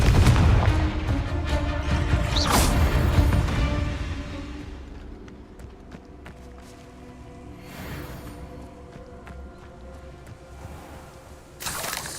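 Booming fire-spell explosions from combat in the video game Hogwarts Legacy, a heavy blast early on, then quieter rumbling and a couple of sharp cracks, one near the end.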